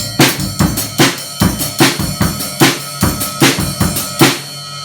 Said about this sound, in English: I just played that with the cymbal and the snare